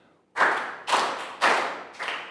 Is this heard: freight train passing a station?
no